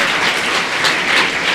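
A festival audience claps in a short, dense burst of steady applause, loud and continuous throughout with no speech over it.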